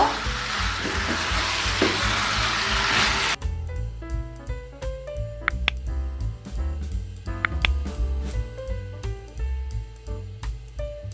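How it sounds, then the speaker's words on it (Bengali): Beef mixed with spices fries for a shahi korma, starting as a loud, dense sizzle before quieter stirring and sputtering continue over a tonal background with no speech. "মাংসটাকে আমি এখন মশলার সাথে ভালো করে মিশিয়ে 5 মিনিটের মতো কষিয়ে নিব।"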